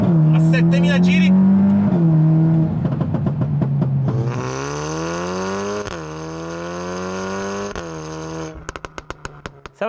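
A tuned Volkswagen Golf 8 R with a Stage 2 upgrade of over 400 horsepower revs hard through the gears, its engine note climbing loudly through each gear with brief drops at the shifts before ending in sharp pops and crackles.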